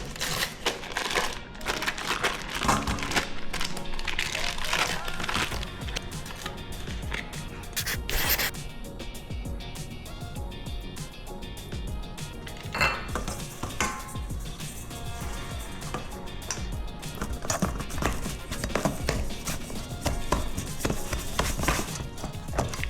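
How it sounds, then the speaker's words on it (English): Cookie frosting of vanilla and granulated sugar being stirred by hand in a bowl, giving continuous close scraping, tapping and gritty scratching sounds with an irregular rhythm for over twenty seconds. "I'm just gonna mix this until it's nice and combined"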